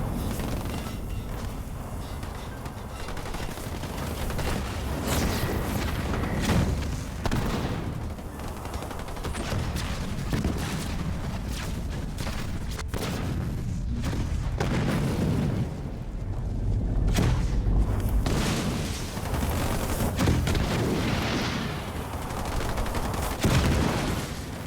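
Continuous battle noise from Halo Wars 2, with Aatrox Chosen shots firing at infantry amid dense rumbling booms and overlapping gunfire, loud and sustained with no clear pauses.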